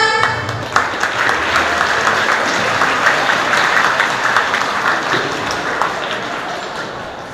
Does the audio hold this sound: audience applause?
yes